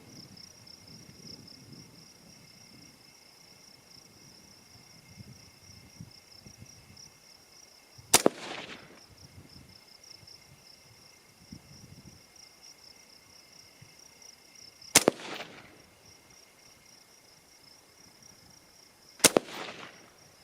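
Three sharp AR-15 rifle shots at a range target, spaced a few seconds apart, each a loud crack with a short decay over a steady insect-like hiss in the background.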